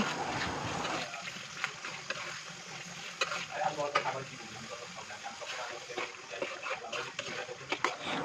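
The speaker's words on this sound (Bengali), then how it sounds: "এবারে আমি ধুয়ে রাখা মরিচগুলো সব দিয়ে দেব এবং সব কিছুর সাথে মিশিয়ে নেব" Washed Naga (Bombai) chilies are stirred into a pickle mixture in a hot pan, giving a steady sizzle broken by repeated scraping and stirring strokes, close and fairly clear.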